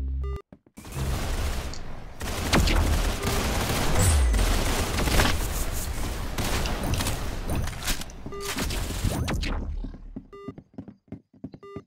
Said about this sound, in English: Pistol.